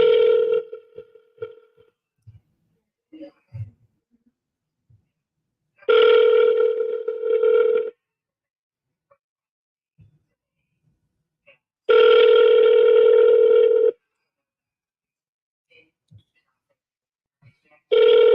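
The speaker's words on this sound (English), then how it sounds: "Now it's dialing." Telephone ringback tones sound in long steady bursts separated by silence, after some short dial beeps and a few faint clicks at the start of the call.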